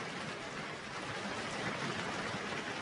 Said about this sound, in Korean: 이 빗소리 한번 들어봐봐라.